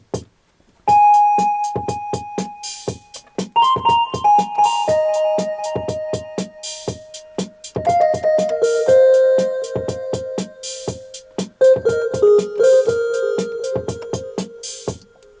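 Celesta melody from a Casio MT-68 keyboard with added reverb and delay: a continuous stream of chiming bell-like notes with echoing repeats and lingering tails, close and loud, with no voices.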